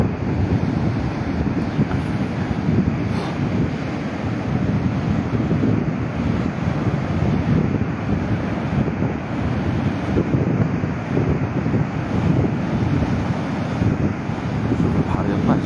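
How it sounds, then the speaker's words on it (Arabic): Strong wind buffets the microphone on the Ain Diab corniche in Casablanca while rough sea waves roar continuously, a dense, unbroken wash of noise. "ولكن راه كاين الريح والبحر"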